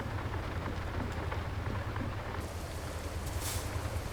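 Steady rain patters continuously, a soft broadband hiss over a low hum, fairly quiet with no talking.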